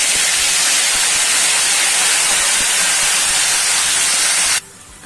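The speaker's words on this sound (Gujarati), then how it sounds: "ત્યારબાદ આપણે ટામેટાની ગ્રેવી જે કરી શકીએ તે નાખી દઈશું" Tomato gravy poured into hot oil with spluttered cumin seeds and curry leaves, a loud steady broadband sizzle close up that runs unbroken for several seconds, then drops off abruptly near the end.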